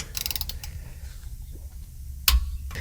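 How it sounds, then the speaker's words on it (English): A torque wrench tightens the differential cover bolts on a Chevrolet Silverado 1500, giving faint mechanical creaks and a sharp ratcheting click near the end, heard close in a quiet space. "Now we're going to go ahead and torque all these in the same star pattern to 20 foot-pounds"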